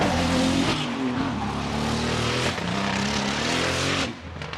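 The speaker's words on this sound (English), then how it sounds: "He comes around here making loads of noise in that VA powered BMW" A V8-powered BMW drift car at an Irish Drift Series pro qualifying round roars loudly at close range, its engine note holding high with squealing tyres, before easing off near the end.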